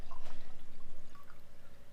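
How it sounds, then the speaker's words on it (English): Water pours into a cleaned glass jar with a steady, rhythmic glugging that continues for about two seconds, close and moderately loud. "We're going to dump the water into our jar that's cleaned."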